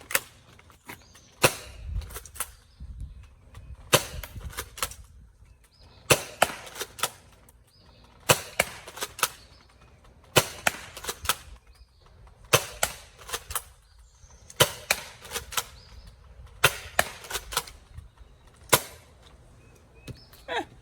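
Foam dart blasters, an Xshot Fury X and an Adventure Force Aeon Pro X budget pro blaster, fire in rapid bursts of sharp snapping shots, several clusters spread evenly with brief pauses between, close and crisp with no talking.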